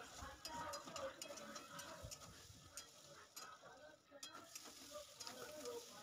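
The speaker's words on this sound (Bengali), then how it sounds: "খুব সুন্দর করে একদম ভালো করে কষে নিচ্ছি" Small new potatoes and spices stir-fried in a pan for a vegetarian aloo dum, with a steady sizzle broken by repeated scraping strokes of a spatula, close and fairly loud throughout.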